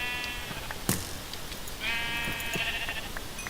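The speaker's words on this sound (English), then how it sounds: "chances of getting a sheep or two on the way" Sheep in a survival video game bleat in a couple of clear, harmonic calls, one starting early and a longer one near the end, over a quiet bed of game ambience with a brief sharp click between them.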